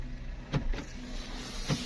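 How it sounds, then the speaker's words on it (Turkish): A Volkswagen Passat 1.8 turbo's door lock actuator tries to lock, giving a few short mechanical clunks and whirs, close by, over a steady car cabin hum. "Kapı kitlemeye çalışıyor. Ben kapıyı açtığım için şey yapmıyor."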